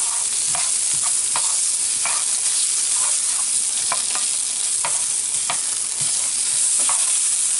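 Tomato paste stirred into beef bolognese in a pan, a loud, continuous sizzle with repeated spoon scrapes and soft taps spaced through it, no talking.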